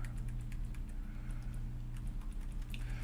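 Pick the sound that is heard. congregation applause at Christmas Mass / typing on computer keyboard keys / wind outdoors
typing on computer keyboard keys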